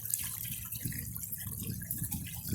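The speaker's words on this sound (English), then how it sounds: "We're gonna turn the valve down a little bit. Get the water flow slower." Water runs steadily through a gold sluice with the valve turned down, giving a continuous close splashing, trickling flow.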